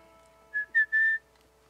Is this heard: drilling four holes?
no